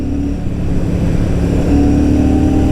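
A Royal Enfield Super Meteor 650 motorcycle rides along a quiet road in third gear, its parallel-twin engine droning low and steady with a faint rise in pitch toward the end.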